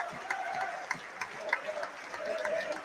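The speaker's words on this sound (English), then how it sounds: "Hereford players clap on either side as the players enter the pitch." Players and spectators clapping as Hereford and Gateshead teams walk out onto the pitch at a football match, a steady patter of applause from a crowd with loud voices over it.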